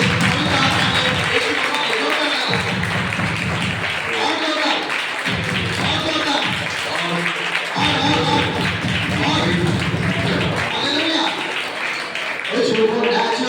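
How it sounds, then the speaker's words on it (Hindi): A Christmas meeting crowd claps hard on request, rapid overlapping handclaps and thumping taps filling the hall, with voices and some singing running over the top throughout. "आपकी तालियों की आवाज नहीं आ रही है। एक बार बजा के दिखाइए"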